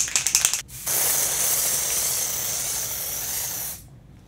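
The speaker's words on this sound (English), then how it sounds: "I wanted to spray it with you guys." A cosmetic face-mist bottle rattles with a few quick shakes, then its nozzle releases one continuous fine hissing spray lasting about three seconds before cutting off.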